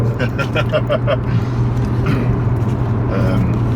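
Audi A3 3.2T engine with a 515 hp tune, a steady deep drone heard close from inside the car, under people talking.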